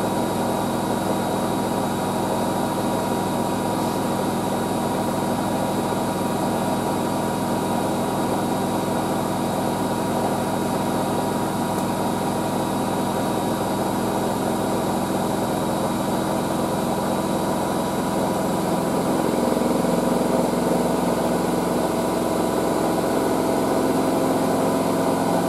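A Hotpoint WD640G Aquarius+ Super Silent washing machine spins a 95°C white cotton load, heard as a steady, loud mechanical hum and whir with constant vibration that shifts slightly in pitch near the end as the drum speeds up.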